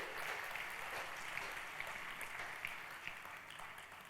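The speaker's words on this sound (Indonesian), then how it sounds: "Terima kasih dan berikan aplaus untuk EDAC member." Audience applause at an indoor Unpacking Event in Jakarta, a steady, dense wash of many hands clapping that holds evenly throughout without pause.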